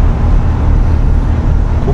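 Car driving across a yard toward a fuel pump, a steady low rumble of engine and road noise that holds evenly throughout with no voices.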